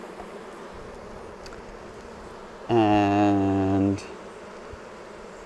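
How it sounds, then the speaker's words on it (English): Honey bees hum around an opened beehive, a soft steady drone in the background, with one bee passing close for about a second as a loud, tonal buzz before fading away. "We've got a lot more bees than there has been in previous weeks"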